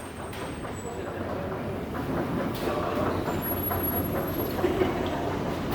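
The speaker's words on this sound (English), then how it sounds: "I'm here at Sheppard-Yonge Subway Station in North York." Low rumbling roar of a subway train at Sheppard-Yonge station on Toronto's Line 4 in North York, a steady broadband drone with faint high squeals and clatter, swelling slightly midway and continuing throughout.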